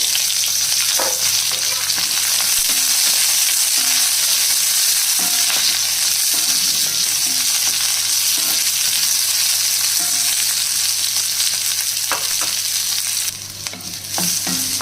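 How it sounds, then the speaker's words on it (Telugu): Chopped onions fry in a kadai with a continuous bright sizzle, joined by occasional soft stirring knocks, close and steady throughout with no talking. "ఇప్పుడు ఇదే కడాయిలో కట్ చేసి పెట్టుకున్న ఉల్లిపాయ ముక్కలు వేసుకోవాలండి."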